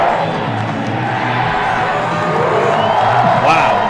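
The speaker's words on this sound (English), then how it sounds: "this crowd is already getting into it. It is loud." A loud stadium crowd roars and whoops steadily at a college football playoff semifinal between James Madison and Sam Houston, a dense wall of cheering with a commentator's voice underneath.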